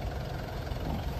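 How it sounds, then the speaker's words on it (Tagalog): A 7-seater diesel automatic SUV engine idles steadily nearby, a continuous low rumble with a faint high whine above it, no voices. "Ang ganda pa ng timing ng makina mga bossing, no?"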